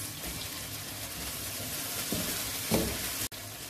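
Sausages go into a pan of curry-spiced food frying, giving a steady sizzle with a few stirring scrapes and a brief clunk near the end.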